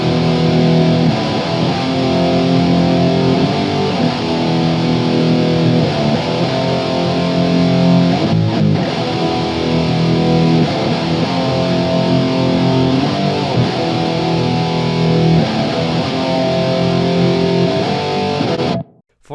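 A heavily distorted metal guitar intro, a cover played back from a DAW through amp-sim plugins, with slow, dark, chugging chords repeating for nearly twenty seconds before cutting off abruptly.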